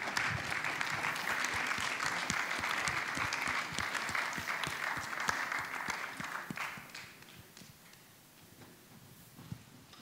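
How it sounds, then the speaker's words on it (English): Audience applause at a short-film screening and Q&A at the Directors' Fortnight, a dense steady wash of many hands clapping for nearly seven seconds, then thinning out and fading to a quiet room with a few stray claps. "sous vos applaudissements"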